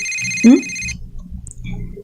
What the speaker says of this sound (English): Is that a ringtone? It's not mine for sure.